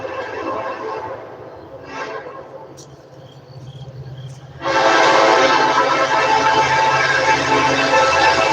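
A train rumbles past with its horn sounding, growing suddenly loud and sustained in the second half, with insects chirping in the background and a brief voice earlier.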